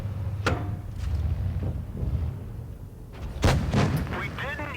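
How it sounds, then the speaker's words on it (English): Tank cannon shots ring out in the World of Tanks Blitz video game, two sharp booming blasts about three seconds apart over a rumbling battle bed, with someone commentating throughout. "He's gonna put another shot in the 50B"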